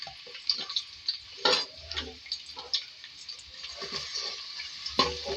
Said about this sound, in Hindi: तेल लिया है, इसमें प्याज ऐड करेंगे मीडियम साइज़ के 1 अदद। इसको फ्राई करेंगे।